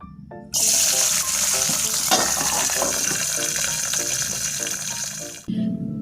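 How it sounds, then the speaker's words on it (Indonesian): Bird's eye chili peppers hit hot oil in a pan and fry with a loud, steady, close crackling sizzle that holds for several seconds before cutting off abruptly. "Pelengkap selanjutnya ini ada cabai rawit, akan saya goreng dulu."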